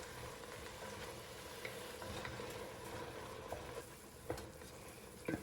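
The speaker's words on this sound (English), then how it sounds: "Keep it stirring around, keep cooking it down." Rabbit jambalaya cooks down in a pot, giving a faint steady sizzle with soft scraping and occasional clicks as a spoon stirs it, with no voices.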